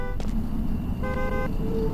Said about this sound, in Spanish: Vi un coche acercarse, espérate